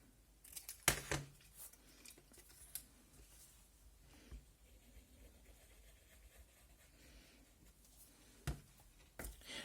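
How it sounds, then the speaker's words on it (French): Scissors snip through a paper strip cut to length for a scrapbooking album page, giving a few quiet, crisp cuts near the start and end with soft handling rustle between. "Je la coupe à la bonne longueur."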